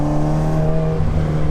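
A tuned Toyota AE86 with a 1.7L engine revs hard toward 9,000 RPM, heard from inside the car as a loud, steady, high-pitched mechanical howl under sustained load.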